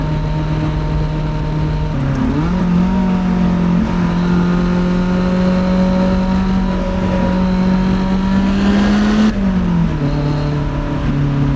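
A powerful sports car engine revs hard and climbs in pitch on a mountain road, drops briefly with each gear change, then pulls up again, loud and close.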